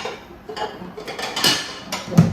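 Freshly washed dishes and plates handled in a home kitchen, with scattered clinks and light knocks of crockery close by.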